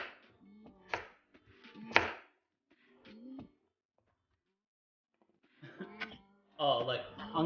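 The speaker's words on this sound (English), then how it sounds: "Just make sure you chop it up nice and small." A knife chops carrot on a board in a home kitchen, with a few sharp, close knocks in short bursts, a pause, then a quicker run of cuts, mixed with some vocal noises.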